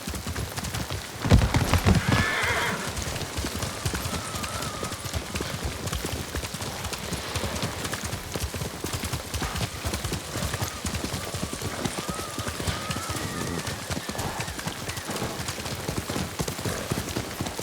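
Horse hooves clip-clop steadily at a gallop across terrain in the samurai video game Ghost of Tsushima, a loud continuous rhythmic pounding with a brief whinny early on and faint game ambience underneath.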